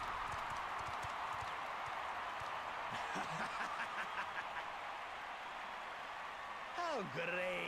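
A crowd cheers in a Final Fantasy XIV: Dawntrail cutscene, a steady, dense roar filling the whole scene, with hoofbeats clip-clopping beneath it and a warbling call near the end.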